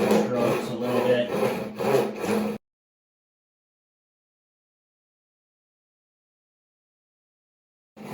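A handsaw cuts into wood while a wooden tote box is being built, giving steady, rhythmic back-and-forth strokes for about two and a half seconds before falling silent. A brief scrape returns at the very end.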